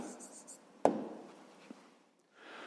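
Pen scratching on paper as numbers are written out for a fifth-grade maths problem on relative motion, soft brushing strokes with one sharper tap, while a voice talks over it.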